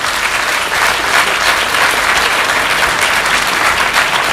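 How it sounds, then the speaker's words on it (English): Sustained round of applause from a conference audience thanking a panel, dense and steady clapping at full volume for several seconds with no voices on top. "Can you give them a round of applause?"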